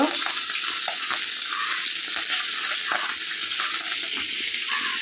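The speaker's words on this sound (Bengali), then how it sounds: "আমার এদিকে মাছ ভাজা বসিয়ে দিয়েছি" Fish fries in oil in a home kitchen pan with a continuous close sizzle and irregular spitting pulses throughout, and no talk.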